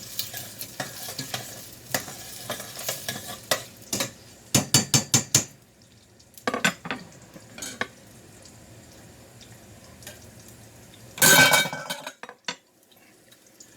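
Carrots cook in a pan for caponata, with quiet frying sizzle under repeated scraping and clattering strokes of a utensil against the pan, arriving in bursts with short pauses between.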